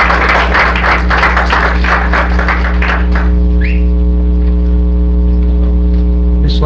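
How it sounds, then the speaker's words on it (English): Audience applause fills a county commission meeting room, loud and dense for about three seconds before stopping abruptly, leaving a steady electrical hum that runs under the whole scene. "I couldn't hear because of the clapping"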